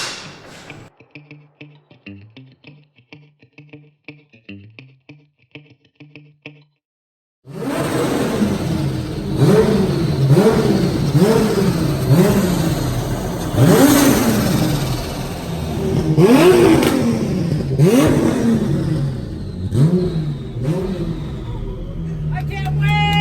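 A BMW 2002 engine revs loudly and repeatedly in rising, sweeping bursts after a quieter opening, with people talking in the background.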